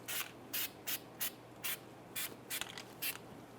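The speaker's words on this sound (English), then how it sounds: "we're going to apply some anti-seize lube to the face here and a little bit on the splines" Anti-seize lube goes onto the face and splines of a 1999-2004 Jeep Grand Cherokee wheel hub. About nine short, faint, evenly spaced rubbing or brushing strokes are heard in a quiet room.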